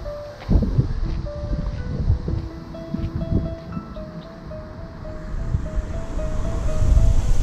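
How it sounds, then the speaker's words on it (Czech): Mountain stream near the Souš reservoir, by the repaired water-transfer tunnel from the Bílá Desná, rushing steadily and fairly close, with a few faint high whistling tones over the broadband flow. "tady je ten potok, Marký."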